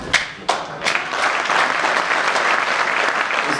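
An audience applauds at a Hindi poetry recital. A few sharp separate claps open, then they swell into full, steady applause that carries on to the end.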